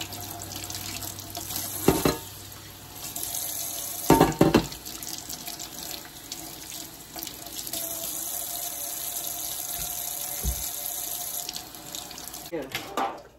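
Tap water runs steadily into a kitchen sink as freshly cleaned fish are rinsed under it, with a few louder splashes and clunks of handling mixed in and no talking over the flow.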